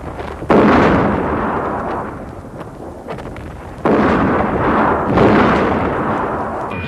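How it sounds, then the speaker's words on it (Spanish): Heavy naval gunfire from the cruiser Almirante Cervera shelling besiegers near the port of El Musel: two loud booming blasts with long rumbling decay, the second following about three seconds after the first, no voices. "el crucero Almirante Cervera se presenta ante el puerto de El Musel y abre fuego contra los sitiadores del cuartel de Simancas"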